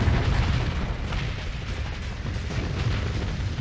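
Torpedo explosions in the Starsector space combat game, a dense continuous rumble of overlapping booms and blasts that stays loud and fairly even throughout, with no voices.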